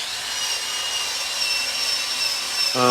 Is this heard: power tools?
yes